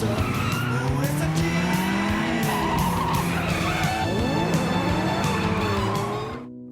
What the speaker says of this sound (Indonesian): Sialnya mobil Bok-nam malah terbalik